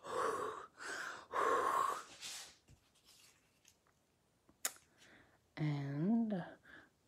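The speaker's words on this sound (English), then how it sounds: "Okay, I'm going to breathe on it." A person breathes heavily onto a painted object with three long, breathy exhalations close to the microphone, then a quiet stretch with faint scratches and taps and a short voiced sound at the end.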